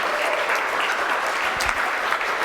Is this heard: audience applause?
yes